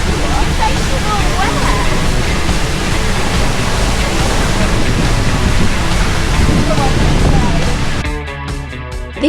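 The Skafos waterfall in Iceland roars continuously at close range, a loud, unbroken rush of crashing water that fades slightly at the very end.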